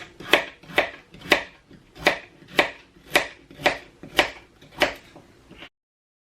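A knife chops through a washed, peeled carrot on a cutting board in about ten steady, evenly spaced strokes, each a crisp close thud with a short ring, then stopping.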